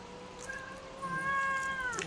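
Pet cats meow at feeding time, two drawn-out, tonal meows close by, the second one longer and louder, with no talking.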